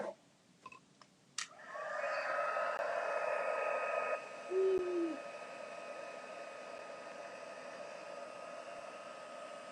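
A handheld craft heat tool used for embossing and melting powder switches on after a few clicks and blows a steady, whirring stream of hot air, close and continuous with a brief pitch wobble partway.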